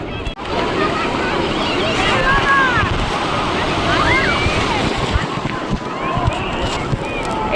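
Sea waves wash up the sand at Digha beach in a continuous rushing surf, buffeted by strong wind noise on the microphone. Faint calls and chatter rise briefly over the steady roar.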